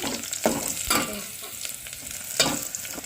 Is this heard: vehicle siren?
no